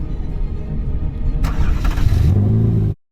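A rebuilt Ferrari 458 starts up during its shakedown, the engine catching and rising into a brief loud rev before settling into a steadier tone and cutting off abruptly.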